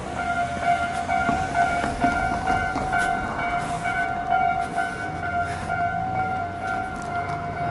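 Kintetsu Nara Line train passing a level crossing in central Nara at night, a steady rumbling train roar with the crossing signal's ringing tones running continuously throughout, loud and close with no talking.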